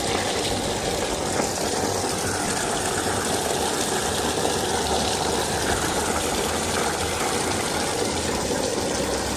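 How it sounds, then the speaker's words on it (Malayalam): Backwash water rushing steadily out of a twin-cylinder gravity water filter, a loud, continuous gushing flow with a low engine-like rumble underneath and no pauses. "ഈ ബാക്ക് വാഷിന് കയറ്റിയ വെള്ളമാണ് ഇപ്പോൾ തിരിച്ച് വന്നുകൊണ്ടിരിക്കുന്നത്"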